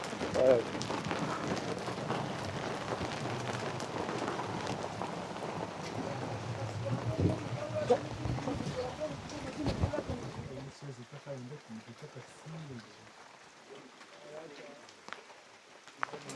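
Steady rain patters close by on a stormy lake ride in western Uganda, with occasional louder drops and scattered voices underneath; the rain thins and quiets near the end.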